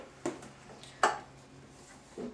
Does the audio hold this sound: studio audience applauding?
no